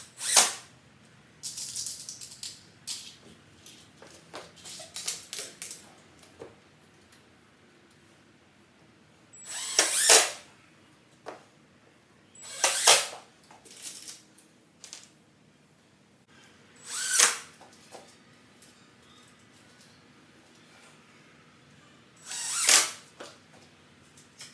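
Screws driven into two stacked layers of 4x6 lumber, several separate bursts of whirring driver and gritty ratcheting spaced seconds apart, with quieter handling noises between them.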